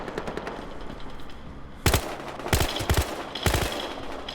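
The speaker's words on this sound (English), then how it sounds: "I hear shooting, but I don't know where he is." Gunfire in the video game Battlefield Hardline crackles through a busy ambient bed, with a few distinct bursts of automatic fire at moderate distance and no talk.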